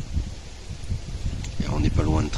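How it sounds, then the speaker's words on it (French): Gusty wind buffets the microphone outdoors on the Camino Francés near Palas de Rei, rumbling low and uneven, while a person talks over it. "Il y a du vent, j'espère que vous m'entendez bien."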